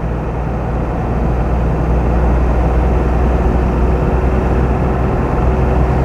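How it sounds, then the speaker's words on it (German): A 1955 Mercedes 300 b Cabriolet D driving along in steady, loud engine and road noise, a constant drone with no breaks and no talk. "Und dann noch so ein schönes Mercedes Cabrio in der Qualität zu fahren."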